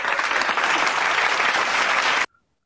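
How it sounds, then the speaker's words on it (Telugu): A children's club gives a burst of applause for a child named Khyati, many small hands clapping densely and steadily for about two seconds before stopping abruptly into silence. "స్పెషల్ క్లాప్స్ ఇవ్వాలి ఖ్యాతికి."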